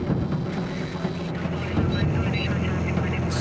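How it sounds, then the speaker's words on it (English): A Piper Malibu, heavily loaded with fuel on a hot day, rolls for takeoff with a loud, steady propeller engine drone heard from inside the cabin, under a speaking voice. "since we were loaded with fuel for the long journey, our takeoff roll took forever"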